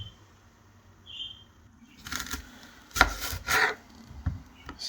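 A knife chops an onion on a board for frying, a few sharp close cuts and scrapes after a quiet start, uneven in rhythm and with no talk.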